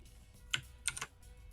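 A few quick keystrokes on a computer keyboard while a script file is named during frontend coding, three or four close, faint clicks in a brief burst over a low background hum.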